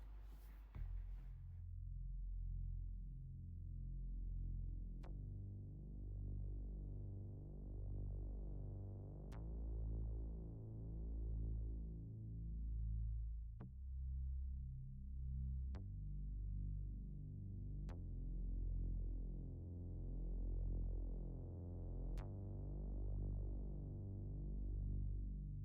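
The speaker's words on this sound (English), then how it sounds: "Then we have a bass that also is automation." Automated synth bass line in a music production, deep sustained tones swelling and fading in long cycles with a few sharp clicks at the phrase changes, playing alone and fairly quiet.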